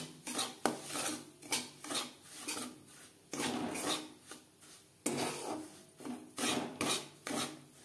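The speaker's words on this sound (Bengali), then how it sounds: "চার 5 মিনিট মিডিয়াম ফ্লেমে সুজি ভেজে নেব।" Semolina roasts in ghee in a pan, heard mostly as a repeated rhythmic scraping and rasping of a spoon stirring the grains against the metal, close and fairly loud, with a faint sizzle underneath.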